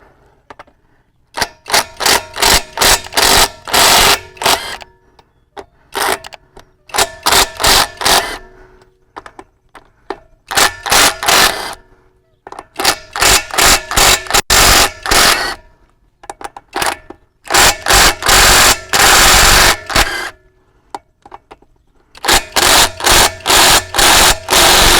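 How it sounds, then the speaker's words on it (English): An impact wrench loosening lug nuts on a Ford Bronco wheel, loud close bursts of rapid rattling hammering, each lasting one to three seconds, separated by short pauses, with no voices. "we want to go ahead and loosen up the lug nuts to ensure that it's easy to take off when the tire's up in the air"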